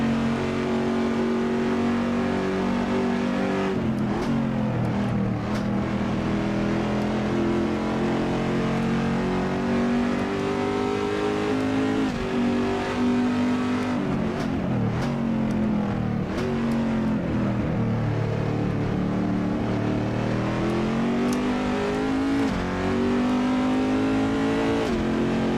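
A Corvette race car engine in Assetto Corsa drones steadily and loud for the whole stretch, climbing and dropping in pitch through gear shifts and throttle lifts as it laps the track.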